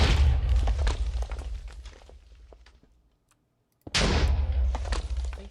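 Explosions in a livestreamed video game: a loud, dense crackling blast rumbles and fades out into near silence, then a second sudden burst hits hard and keeps roaring with rough, noisy debris.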